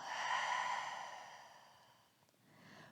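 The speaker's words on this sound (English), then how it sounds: "maybe an open mouth exhale" One soft, open-mouthed exhale during a yoga session, a close, breathy sigh that fades out, followed by a faint, quieter breath.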